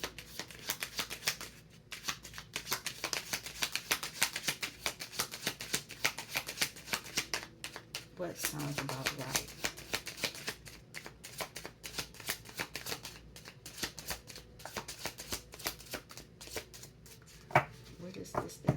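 Tarot cards are shuffled continuously, with dense, rapid papery riffles and slaps held close to the mic. A person speaks briefly over them partway through.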